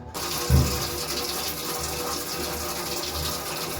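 Tap water runs steadily into a kitchen sink for washing dishes, a continuous gushing flow with a brief louder splash near the start and no talk.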